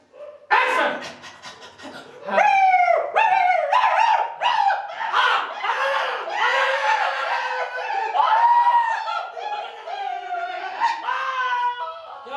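A man imitates a dog with his voice, barking and howling in a long run of yips, bow-wows and drawn-out wavering howls, loud and close with no other sound.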